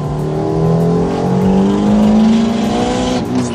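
A loud, close engine climbs steadily in pitch as a modified race car, a 320 hp Honda Brio with an L15 engine, accelerates hard in second gear during a drag race.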